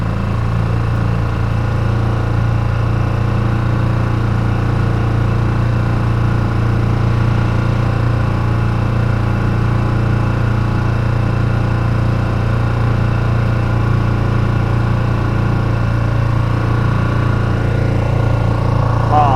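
A tiny 4HP boat engine drones as it warms up, a loud, steady, buzzing hum with a strong constant low tone that runs unbroken from start to finish, with no noticeable change in pitch.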